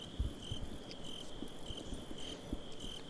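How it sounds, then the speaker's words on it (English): Night ambience from the Resident Evil 4 video game: a steady, faint chirring of crickets with occasional soft thumps; no wolves stand out. "You're hearing the crickets, you're hearing the wolves."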